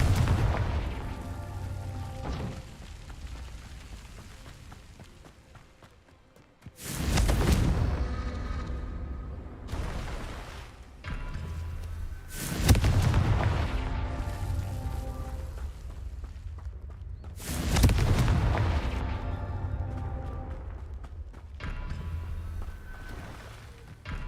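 Explosive Confringo spell blasts in the game Hogwarts Legacy: several heavy booming detonations arrive at intervals over a constant rumbling game ambience, each a loud deep burst that rolls off slowly.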